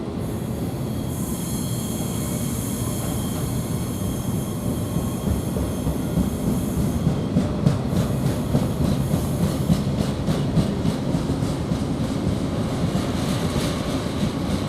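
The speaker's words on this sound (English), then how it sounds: "It's from Wakeport to Felixstowe South, this freight train is." A freight train running from Wakeport to Felixstowe South rolls steadily past a Derby Road station platform, with a loud, continuous rumble of wagons, rhythmic wheel clatter and high metallic squealing throughout. No one speaks.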